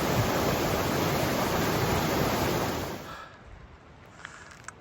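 A river rushes at a trail crossing on the Wonderland Trail, a loud, close, hissing roar of fast water that holds steady for about three seconds, then drops to a faint, distant murmur with a few small clicks.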